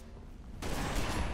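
A weapon in Halo: Reach opens up after a short lull, and loud, rapid gunfire then pours out without a break.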